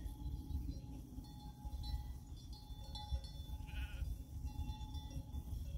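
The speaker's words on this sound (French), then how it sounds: "On a le berger qui passe à côté de nous avec les moutons" A flock of sheep passing with a shepherd bleats faintly in the distance over a low, steady rumble of outdoor background noise.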